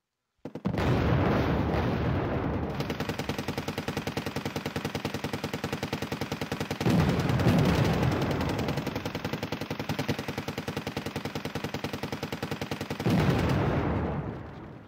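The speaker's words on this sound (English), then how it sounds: "My tank sees it, fires, but then gets side shot by his Kairomaru." Tank cannons and battlefield weapons fire in the real-time strategy game Wargame, a loud, continuous barrage of booming shots and rattling bursts lasting throughout, with heavier surges near the start, middle and end.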